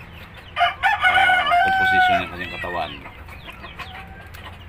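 A tall laying hen, newly started on her first eggs, gives loud close clucks and a drawn-out cackle that fade into softer calls, while someone talks nearby.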